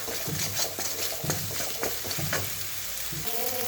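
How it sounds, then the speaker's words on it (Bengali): Spices sizzling in a pan for a kachki fish chorchori, a steady close hiss broken by rhythmic stirring scrapes and light clinks of the spoon against the pan, with no voices. "মশলা ভাজা হোক"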